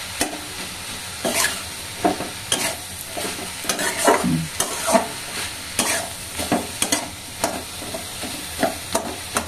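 A vegetarian dish frying in a pan, with a continuous sizzle punctuated by repeated sharp scrapes and knocks of a spatula stirring close up, no talking.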